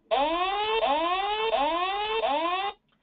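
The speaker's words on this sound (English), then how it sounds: "now remember that warning alarm. I'm going to play you that sound as a reminder" Warning alarm from a G7 safety monitoring device: loud electronic whooping tones, four rising sweeps repeated back to back for about two and a half seconds, then cut off, with no voices.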